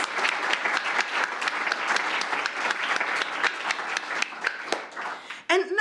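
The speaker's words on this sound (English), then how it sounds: "another big thank you and round of applause for all of them, please" An audience at an international festival lecture event gives a round of applause. The clapping is dense and sustained for several seconds, then thins out into a few scattered claps at the end.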